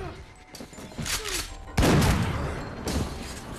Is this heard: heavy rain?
no